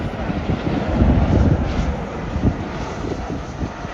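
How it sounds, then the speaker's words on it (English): A CRJ700 regional airliner departs at an airport, its jet engines giving a steady, fairly loud roar that swells and then eases slightly over several seconds, heard alone without talk. "there's one departing. Right here, CRJ700."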